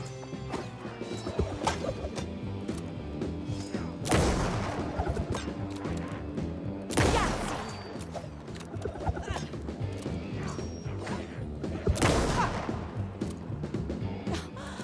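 Gunfire in the video game Alan Wake 2: three loud, sharp blasts spaced a few seconds apart, standing out over a dense, busy layer of game sound.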